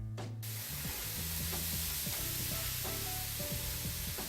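Velvet crabs searing in very hot oil give off a steady, bright sizzling hiss that fills the whole moment. Faint tonal sounds sit underneath, and no one speaks.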